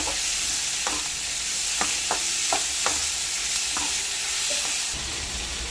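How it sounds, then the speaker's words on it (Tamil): Tomatoes sautéing in a pan for coriander chutney, a continuous close sizzle with repeated sharp spoon scrapes and stirs, no voices. "இப்போ வந்து தக்காளி வந்து நல்லா வதங்கிடுச்சு லைட்டாக."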